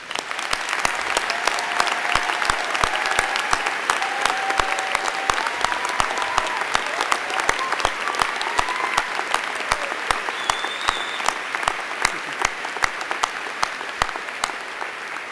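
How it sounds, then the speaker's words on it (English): Sustained applause from a graduation audience at the University of Winnipeg spring convocation, a dense, steady clatter of many hands filling a large hall for the full duration without letting up. "Please join me in another round of applause for all of our graduates."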